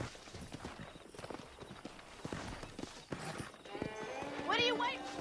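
Steady clip-clop of galloping horses in Red Dead Redemption on Xbox 360, with a horse whinnying near the end and voices talking underneath.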